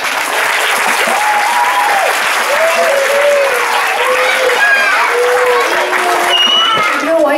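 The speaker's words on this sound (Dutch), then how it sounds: "Dus even applaus." Loud, steady applause from an audience at the opening of a children's holiday village, filling the whole stretch with dense clapping, with whistle-like tonal sounds and voices mixed in.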